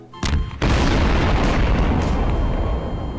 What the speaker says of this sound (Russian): Вот это жахнет, аж радиацию слышно.